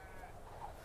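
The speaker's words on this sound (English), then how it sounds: "Yeah, that's a burnt sheep." A sheep bleats in a short, close, fairly soft burst, heard during a House of the Dragon episode.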